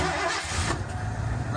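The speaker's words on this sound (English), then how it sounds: "Let's see if it'll start. Don't even have to pump it." A 1983 Ford Crown Victoria LTD engine cranks and catches, settling into a loud, steady idle close by.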